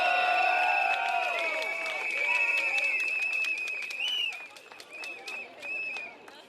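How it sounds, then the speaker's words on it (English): A crowd at a Singapore Democratic Party night rally in Woodlands Stadium, Marsiling-Yew Tee, claps and cheers for the young people present. The applause is loud and steady at first, then thins into scattered whistles and shouts before fading. "Young people, give yourselves a round of applause."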